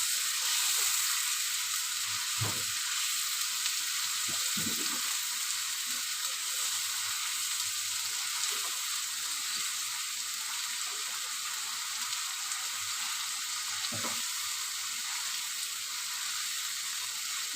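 A salted spice mixture for a soybean curry hisses in a steady, low frying sizzle in the pan, broken by occasional soft thuds and scrapes of stirring.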